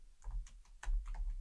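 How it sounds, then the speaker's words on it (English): Quick keystrokes on a computer keyboard during web development work, a short irregular burst of close, moderately quiet clicks with no talking. "It's like I never used a keyboard before."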